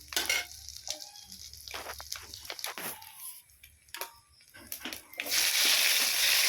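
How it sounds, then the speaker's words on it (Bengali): Panch phoron or black cumin seeds sizzle in hot oil in a pan where fish was just fried, with stirring scrapes and clatter over a steady close frying hiss that swells louder near the end. "এবারে ওর মধ্যে দিয়ে দেব 5 ফোড়ন বা কালো জিরে দেওয়া চলে, দিয়ে কিছুক্ষণ নাড়িয়ে নেব।"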